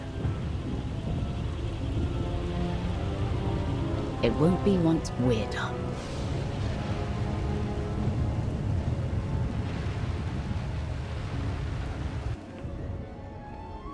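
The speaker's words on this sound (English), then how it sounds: "Looks like the storm's not letting up anytime soon." Rain and rolling thunder from a storm in the Star Wars The Old Republic video game, a steady dense roar with a louder rumble midway, running under a voice speaking throughout.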